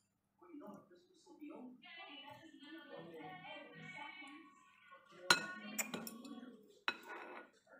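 Potatoes and chilies tumble into a metal cooking pot for a Persian lamb shank dish, giving a few sharp clattering knocks and clinks against the pot after a stretch of speech, close and fairly quiet.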